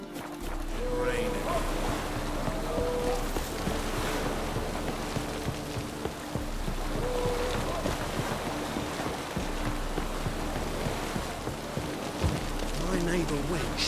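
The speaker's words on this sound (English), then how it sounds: "Raining." Rain in The Witcher 3 video game, a steady broadband hiss of drops pattering on surfaces, continuous and moderately loud with faint voices and tonal game sounds mixed in.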